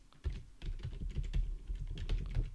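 Fingers type on a computer keyboard in quick, uneven bursts of close, crisp key clicks and thumps, with no voice over them.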